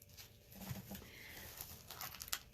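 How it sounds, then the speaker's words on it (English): Scissors cut open a plastic craft kit package, giving soft, faint crinkling and rustling of plastic with a few light snips close by in a quiet room. "I'm just going to take my scissors and cut this open real fast"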